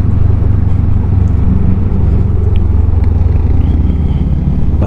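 A Macbor Eight Mile 500 Street motorcycle being ridden on a test ride, its engine giving a loud, steady low rumble up close, with wind roar throughout and no talking.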